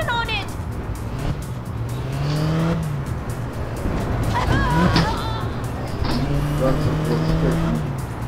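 A car in a video game drives along with a steady engine hum, rising revs and tire noise, while people talk over it throughout.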